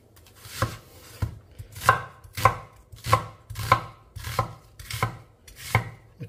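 A knife chops a large, fist-sized onion on a board, with about ten crisp, evenly spaced strikes close by in a steady rhythm and no talking.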